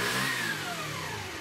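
A 50cc moped scooter, 2019 plate, running after repair: a close buzzing small engine revving then settling, steady and fairly loud for under two seconds with no voices.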